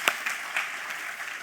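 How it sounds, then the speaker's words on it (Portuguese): A church congregation claps hands in praise, a dense, steady patter of many hands filling the room at close range, with a few sharper claps standing out, and no talking over it. "Vamos louvar a Deus mais uma vez com palmas"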